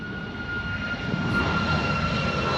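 Loud aircraft engines roar steadily at a distance as a plane overshoots its landing at Newcastle airport and climbs away, a continuous broad drone with a faint whine, with no talk.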